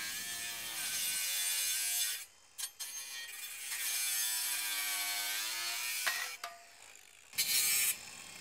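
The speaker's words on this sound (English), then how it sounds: "Cut the aluminium with either a hacksaw or a grinder." A hacksaw cuts aluminium base rail for a polytunnel, its rasping strokes repeating steadily in close, rhythmic passes, with brief pauses between bursts of sawing.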